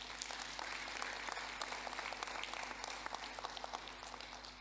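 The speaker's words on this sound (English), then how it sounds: "can you please all give a round of applause to our staff." Applause for staff from the audience at a College of Medicine of South Africa graduation ceremony in Cape Town, continuous clapping from a crowd heard fairly faint and distant over a steady low hum.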